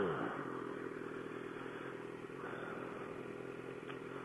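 A stock-exhaust 2014 BMW S1000RR motorcycle revs steadily close by, its engine note holding a sustained, slightly rising roar with a brief dip midway, with no voices.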